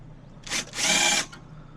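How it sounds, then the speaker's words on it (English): A power drill with an 11/32 bit whirs in two short bursts while starting a hole, a brief spin followed by a longer high-pitched run, close and fairly loud. "I'm gonna put this 11/32 on here, this drill bit"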